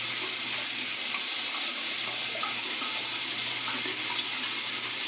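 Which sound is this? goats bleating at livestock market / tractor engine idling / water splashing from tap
water splashing from tap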